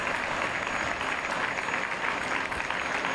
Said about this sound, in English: And a round of applause from both sides.